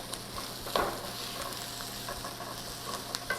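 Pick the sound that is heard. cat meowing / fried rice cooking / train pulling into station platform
fried rice cooking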